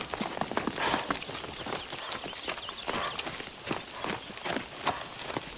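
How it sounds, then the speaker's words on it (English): Horse hooves clip-clopping in a scene from the film The Color Purple as a man rides, a run of sharp, evenly spaced hoof strikes, moderately close, over a quiet background. "as he's riding this horse"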